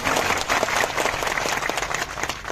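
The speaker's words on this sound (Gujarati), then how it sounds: "એમના માટે તાળીઓ પાડીએ" A crowd applauds with dense, sustained clapping that stays loud from start to finish.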